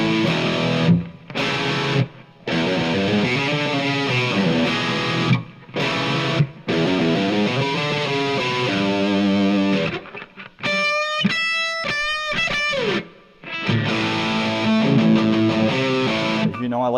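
A Marshall DSL 1H one-watt guitar amp pushing classic rock distortion, with loud, thick overdriven chords and riffs, brief pauses, and a bright run of single picked notes partway through, with no voice.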